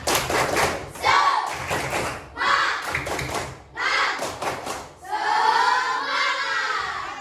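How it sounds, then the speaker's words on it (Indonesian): A school class performs a rhythmic clap chant, bursts of patterned group clapping and thumps separated by short pauses, with children's voices chanting along near the end. "Kita tes dulu, tepuk semangat"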